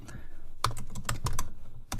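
A file name typed on a computer keyboard: a short burst of distinct close key clicks in an uneven rhythm, about eight or nine strokes, with no talking.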